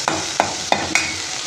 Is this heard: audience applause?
no